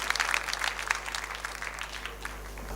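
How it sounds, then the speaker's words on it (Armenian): A room claps for Liana after her performance at a judged contest: steady, moderately close applause from a modest crowd with crisp individual hand claps, no voices. "Ծափարենք Լիանային"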